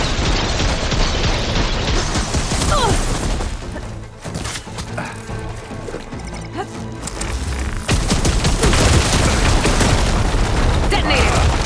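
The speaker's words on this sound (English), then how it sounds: "Detonated!" Explosions detonate in the video game Horizon Forbidden West, with loud booms, crashes and splintering debris layered in a busy, continuous battle soundscape that keeps surging.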